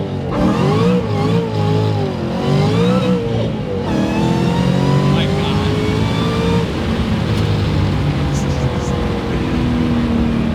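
A 1000 hp Shelby GT500 Mustang accelerates hard, its engine howling loud and near as the revs sweep upward, drop at a gear change, then climb again inside the cabin, with voices briefly heard over it.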